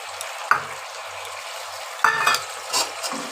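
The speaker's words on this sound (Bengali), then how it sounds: "পনিরগুলো দিয়ে একটু নাড়াচাড়া করে দেখো আমার পুরো ঝোলটাও ফুটে উঠেছে" Paneer is stirred into a simmering curry, with a few distinct spatula knocks and scrapes against the pan over a soft, steady bubbling hiss, close by and otherwise quiet.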